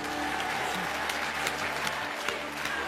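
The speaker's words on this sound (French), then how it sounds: "Je voudrais qu'on applaudisse très très fort Hakim." A game show studio audience claps for a contestant during a charity Christmas special, steady dense applause filling the room with a few louder claps standing out and faint voices underneath.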